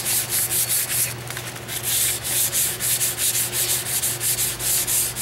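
Rhythmic back-and-forth rasp of sandpaper on a painted wooden hand rail, loud and close, with steady strokes and a brief pause partway through.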